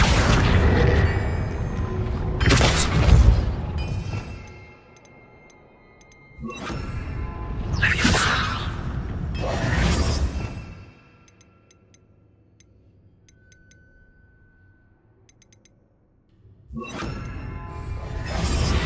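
Bombarda and Confringo spell blasts in the video game Hogwarts Legacy: loud booming, shattering bursts with whooshes come in clusters separated by quieter stretches of faint ticking and ambience.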